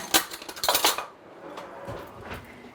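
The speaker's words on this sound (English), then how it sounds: "Let me get a spoon." Metal cutlery clinks and rattles close by as a spoon is fetched, with a burst of bright clatter in the first second followed by quieter scattered clicks.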